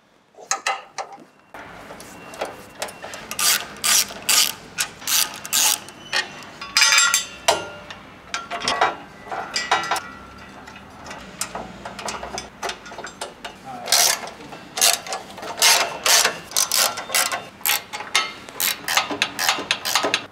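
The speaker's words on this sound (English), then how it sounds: "we want to whip out these four bolts, there's two per side, the two outers" A ratchet takes out chassis bolts on a Ford Next-Gen Ranger, with rapid rhythmic clicking bursts and short pauses repeating for about twenty seconds, close and clear with no voices.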